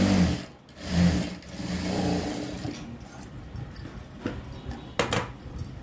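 Domestic sewing machine running a straight seam along blouse cloth, a steady mechanical whir that swells and eases over several seconds before fading, with a few light metallic clicks near the end.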